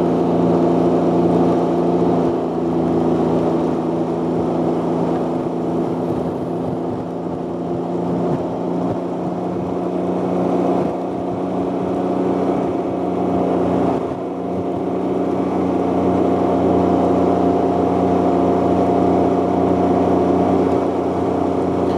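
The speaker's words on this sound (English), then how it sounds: "Nice if the wind wasn't quite so obnoxious." Wind roaring steadily past a rider on a moving Can-Am Ryker three-wheeler on a clear day, a constant broadband rush blended with a low engine drone, with slight dips in intensity.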